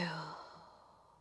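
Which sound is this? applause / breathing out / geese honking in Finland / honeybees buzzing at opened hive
breathing out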